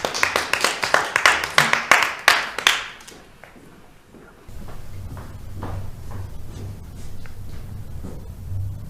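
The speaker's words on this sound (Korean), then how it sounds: "박수로 맞이해주세요" Students in a middle school classroom clap for class president candidates, a quick burst of sharp hand claps for about three seconds, then scattered taps and shuffling under low room noise.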